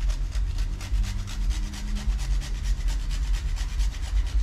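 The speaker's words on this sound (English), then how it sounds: "I think it tastes better, the fresh grated nutmeg." Fresh whole nutmeg is rubbed by hand against a grater for Guyanese sugar cake, a close, rapid rasping repeated in a quick, steady back-and-forth rhythm.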